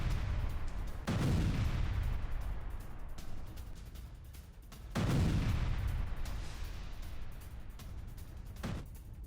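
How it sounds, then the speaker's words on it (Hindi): Two heavy, deep explosion booms in St. Petersburg roughly four seconds apart, each a sudden loud burst that rumbles and fades, with a smaller thud near the end. "आसमान में चमक के साथ भारी धमाका हुआ है, भारी विस्फोट हुआ है।"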